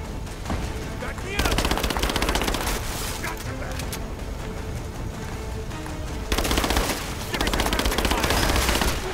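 Gunfire in Rise of the Tomb Raider: sustained automatic bursts rattle loudly and continuously, with heavier volleys partway through, while a voice speaks over the shooting.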